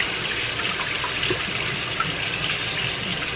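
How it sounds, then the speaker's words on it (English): Cold water is poured out of a bowl into a kitchen sink after rinsing raw chicken, a continuous close splashing trickle that runs steadily with no talk. "and then I pour out the cold water."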